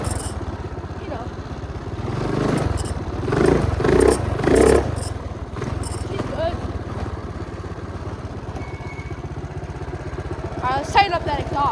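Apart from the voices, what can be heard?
212cc engine minibike running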